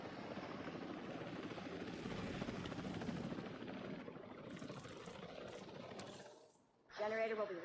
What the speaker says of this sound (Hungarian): Ez miért nem megy az a helikopter?